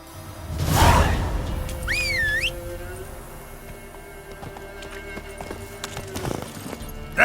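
Roach, a horse in the video game The Witcher 3, clip-clops with hooves over a busy game soundscape, alongside a sweeping whoosh, a brief whistle-like tone and some voices.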